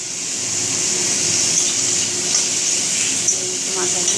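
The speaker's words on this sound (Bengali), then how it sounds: "মাথাটা ভাজা হচ্ছে" A fish head fries in a pan for a Bengali chorchori, giving a steady hiss of sizzling oil, with a faint clink or two partway through.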